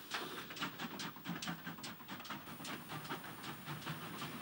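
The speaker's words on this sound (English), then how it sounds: "The train now crosses the main road at Kilver Street level crossing" A train on the Cheddar Valley branch line near Shepton Mallet rumbles steadily across the Kilver Street level crossing, with rhythmic wheel clatter and hiss, loud and close throughout.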